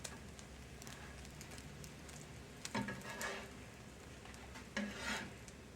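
Folded scrambled-egg omelet with jalapenos crisping in a pan, a quiet, low frying hiss with two soft scraping stirs of a spatula against the pan partway through; no one speaks.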